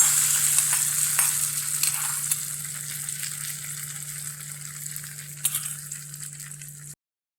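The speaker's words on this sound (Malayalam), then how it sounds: "കറിയിലേക്ക് താളിപ്പ് ചേർത്ത് കൊടുക്കാം" Hot tempering is poured into a Kerala roasted-coconut pappadam curry, setting off a loud, bright, close sizzle that slowly fades over several seconds with a faint low hum underneath, then cuts off.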